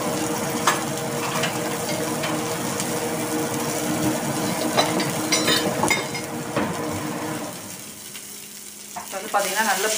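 Garlic fries in hot oil over a high flame for a Tamil prawn pepper masala, with green chilies added. A dense, continuous sizzle crackles loudly up close and eases off somewhat toward the end.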